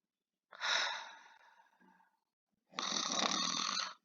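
A person snores loudly in two long breaths separated by a short pause, each a raspy, rattling rush of air heard alone.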